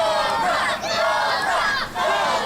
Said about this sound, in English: The fans cheering, chanting, trying to encourage DaCobra to make it to his feet.